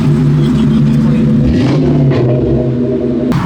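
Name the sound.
Terminator car rolling up at a car meet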